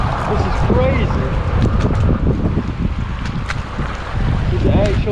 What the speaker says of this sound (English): Do you see this wind?